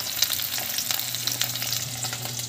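Oily parshe fish frying in a pan, a close, busy sizzle with sharp pops and spits sounding alone over a short stretch.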